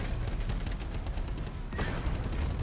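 Rapid missile launches from a Crusader Ares starfighter in the space combat game Star Citizen, a dense, continuous barrage of booming, crackling bursts that stays loud throughout with little pause.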